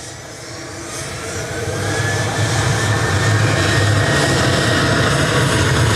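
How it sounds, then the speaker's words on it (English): Ryanair jet airliner taking off at Manchester Airport, a broad, loud engine roar that swells over the first seconds and holds steady near, with no talk over it. "Lining up on from Tango is Ryanair 2148 to Krakow."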